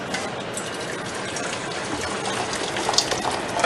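Water poured steadily into a pot of raw meat on a stovetop, a continuous close gushing splash that holds at an even level throughout.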